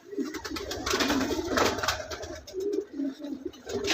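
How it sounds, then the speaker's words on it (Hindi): Paired pigeons on a rooftop coo in repeated soft, throaty rolling calls, close by, with faint outdoor background noise. "ये उनके जोड़ों वाले कबूतरों का शौक़ हो रहे हैं।"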